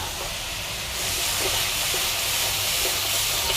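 Spices for a papaya and fish-head curry frying in a pan just after water is poured in, a loud steady hiss of steam and sizzling that swells slightly partway through.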